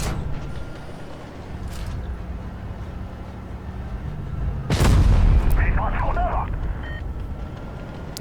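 A heavy tank's high-explosive cannon round fires in Tanks Blitz with a loud, deep boom about midway through, rumbling briefly after, set against steady battle ambience and engine drone.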